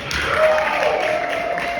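Moderate applause from a comedy club audience at The Chicago Laugh Factory during a stand-up set, a continuous patter of clapping with some crowd noise, fairly even in loudness throughout.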